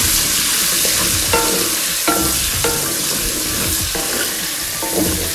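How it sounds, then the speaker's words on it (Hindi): A large onion fries in oil for karela chicken, loud and close: a dense, constant sizzle with a spatula scraping and stirring in a few distinct strokes, no voices. "उसी ऑयल में हम 1 अदद बड़ा प्याज ऐड कर देंगे। इसको अच्छे से फ्राई करेंगे ऐसे"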